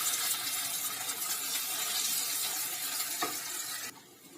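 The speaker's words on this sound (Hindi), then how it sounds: "तो इसे हम खूब अच्छी तरह इस तरह चलाते हुए भून लेंगे, ताकि जले ना।" Chicken angara sizzles steadily in a hot pan while a utensil stirs and scrapes through it, a dense, close frying hiss lasting several seconds before dropping off abruptly.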